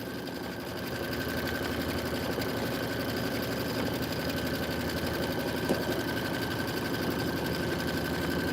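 Sewing machine stitching quilt borders at a vacuum and sewing shop, running in a steady, rapid mechanical chatter with a faint hum, moderately quiet and continuous, without talk.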